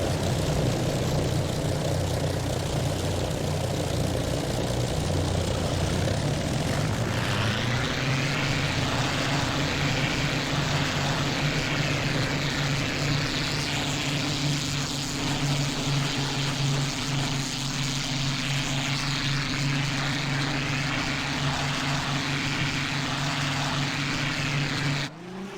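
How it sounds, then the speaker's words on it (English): A propeller aircraft engine from the IL-2 flight combat game idles and rumbles while taxiing, steady and fairly loud, with a shift in pitch and intensity around the seventh second as power changes, then a sustained drone. "Let's taxi to the proper position."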